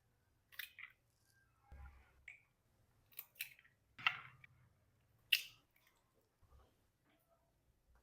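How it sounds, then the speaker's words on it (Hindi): Egg cracked against a bowl and emptied in for checking: a handful of sharp, close clicks and small wet squishes spaced out in a quiet kitchen, without talk. "तो हर अंडा इसी तरह से हम चेक करके फिर एक अलग बाउल में डालेंगे।"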